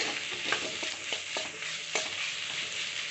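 Ridge gourd curry with chili powder being stirred in a pan, a steady sizzle of frying with repeated scraping strokes of a spoon, close and continuous with no talking.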